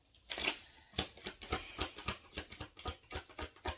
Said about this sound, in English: Just shuffling the deck.